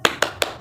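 A class of primary-school children does a rhythmic spirit clap, three crisp, evenly spaced claps ringing out close together in a classroom.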